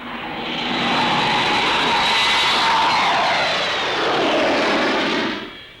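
Turboprop carrier radar aircraft flying past at the Farnborough Airshow with one half of its engine shut down, a steady loud roaring drone that swells and slowly shifts in pitch as it passes, with no talk.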